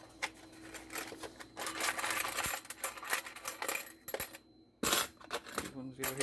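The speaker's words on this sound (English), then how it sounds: "Yale 1 keys." Yale 1 key blanks clinking and jingling as they are handled and stocked, bursts of light metallic rattling close by with short pauses between, quiet overall.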